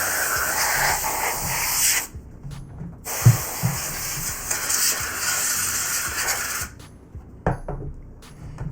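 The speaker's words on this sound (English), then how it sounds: "just take your canned air and blow out those inner workings there" Canned air sprays in bursts into the inner workings of a PS4 console being deep cleaned, with two long hissing blasts separated by a short gap, then brief shorter puffs near the end.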